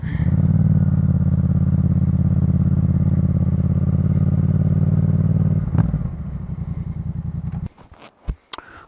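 A 2014 Yamaha MT-07 motorcycle idles loudly and steadily close by with a deep, throbbing engine note. After about six seconds it drops to a lighter, quieter idle, then cuts out, leaving a few clunks and knocks.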